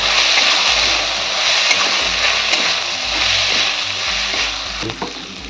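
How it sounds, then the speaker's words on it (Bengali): Ground spices with coriander powder and salt fry in hot oil, a loud, dense, continuous sizzle close up, with stirring scrapes and a few sharper clicks near the end, no voices. "এক চামচ ধনের গুঁড়ো পরিমাণ মতন নুন দিয়ে ভালো করে আমি ভেজে নেবো সব মশলাগুলো"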